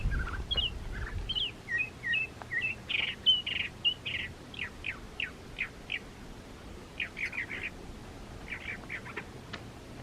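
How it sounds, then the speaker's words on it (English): Birds call and chirp on a mountain hiking trail in Guadalupe Mountains National Park, a series of bright, repeated whistled notes and trills in short bursts, moderately near against quiet wind. "If you're into birding and you know that bird call, I would love to know what that was."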